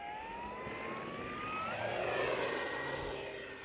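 A Dynam T-28 Trojan 1.3m RC plane on 4S power takes off at half throttle, its electric motor whine rising in pitch as it passes nearby, steady and fairly loud with a faint harmonic drone.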